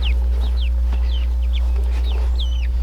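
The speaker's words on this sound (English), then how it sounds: "We got the chicks right here" Young chicks being moved to a new home in a chicken tractor chirp and peep in a quick series of high, rising calls over a steady low hum, fairly close and without talk.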